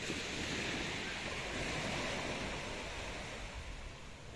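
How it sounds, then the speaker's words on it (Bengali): Sea waves at Corbyn's Cove beach in the Andaman Islands, a continuous broad wash of surf rolling close by, steady and fairly loud with some wind on the microphone and no talk. "ঢেউগুলো সাউন্ড যেরকম দেখতেও দারুণ"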